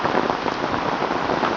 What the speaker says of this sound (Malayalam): അതിശക്തമായ മഴ പെയ്തുകൊണ്ടിരിക്കുകയാണ്.